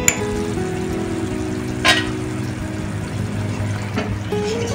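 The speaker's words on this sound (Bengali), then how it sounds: "যে ভাজা মশলাটা লাস্টে দেব সেটা একটু ড্রাই রোস্ট করে নিচ্ছি" A spice mix, set aside to add at the end, dry roasting in a pan in a home kitchen: a steady, soft sizzling hiss with a couple of brief metallic clinks from a utensil against the pan.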